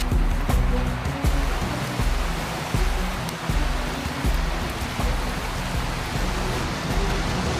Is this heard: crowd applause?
no